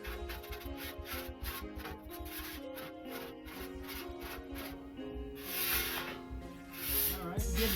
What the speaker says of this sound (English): Get that old grease off first.